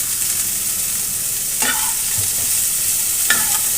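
Cauliflower pieces sizzle steadily in hot oil in a wok, heard close and alone. Two distinct scraping stirs break through the constant frying hiss.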